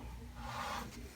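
A sanding block rubs across the frets of a guitar, an Ovation CC 24, in a short, faint, steady rasp.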